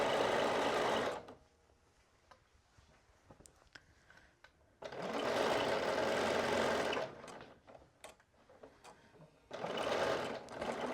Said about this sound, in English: Now I'm stitching on the previous stitch line.